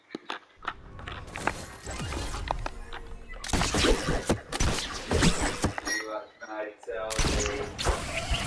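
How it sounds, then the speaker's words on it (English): Video game gunfire in a team shooter match, bursts of loud rapid shots and impacts in clusters, broken by short quiet gaps, with people talking over the action. "You're allowed to shoot whenever you want."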